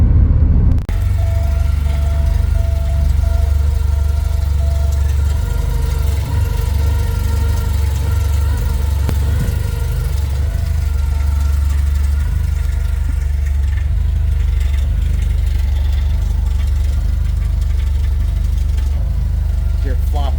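A Porsche 924S engine idles steadily at close range with a low, even rumble that holds throughout.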